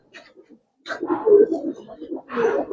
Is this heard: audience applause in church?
no